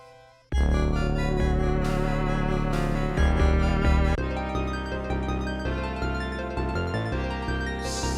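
Sega Genesis FM chiptune music from Castlevania Bloodlines played back through the Chipsynth MD plugin. It is a loud, dense arrangement of bass, chords and lead, with a steady pulsing rhythm that runs alone for the whole stretch.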